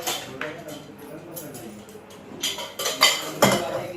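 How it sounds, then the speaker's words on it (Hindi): Freshly washed steel dishes and utensils are set down in a kitchen, giving a series of irregular clinks and clatters that grow louder toward the end, with a voice faintly mixed in. "दूसरी तरफ मैं ये धुले हुए बर्तन भी रख दूँगी"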